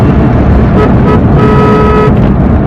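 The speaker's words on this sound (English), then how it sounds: "A pretty nice horn on this car." Horn of a Hyundai Santro Xing car sounding in two toots, a short one then a longer one, loud and close over heavy driving and road noise.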